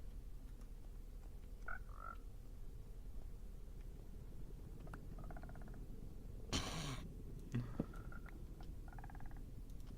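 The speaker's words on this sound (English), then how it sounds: "It really does just look like there's 3 frogs in one boat, though." Minecraft frogs croaking faintly in short separate bursts over a low steady background rumble, with one louder sharp sound partway through.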